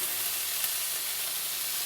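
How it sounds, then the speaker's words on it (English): Spring lamb sizzles loudly on a very hot griddle, a steady bright crackling hiss close by with no talking. "You can really hear that sizzle."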